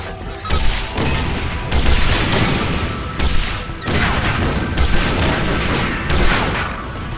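Rapid bursts of combustor weapon fire in Ratchet & Clank, dense crashing blasts repeating in quick succession, loud and continuous with short gaps between volleys.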